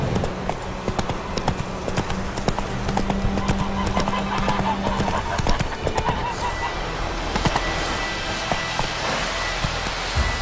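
A horse in the video game The Witcher 3 gallops along with quick, rhythmic hoofbeats and a whinny, mixed with game sounds at moderate loudness.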